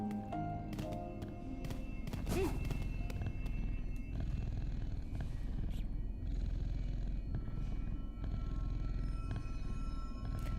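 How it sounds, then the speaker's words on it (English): Soft, continuous purring from a bug creature in the video game Hollow Knight: Silksong, a low steady rumble with faint tapping and light background game sounds throughout. "I could listen to this bug purr forever."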